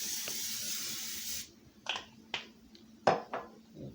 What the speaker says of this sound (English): You're gonna lightly spray your pan with oil.